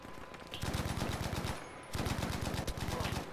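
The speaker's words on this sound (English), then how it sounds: "Oh, I'm getting shot from behind." Automatic gunfire in the video game Battlefield V Firestorm, a loud rapid burst of evenly spaced shots that pauses briefly and then resumes, close and dominant throughout.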